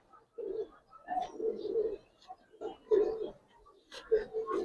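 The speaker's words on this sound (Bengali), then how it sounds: "এই যে কবুতরটা দেখেন" A pigeon cooing close by, several low, throaty coo phrases in bursts separated by short quiet gaps, with faint higher chirps mixed in.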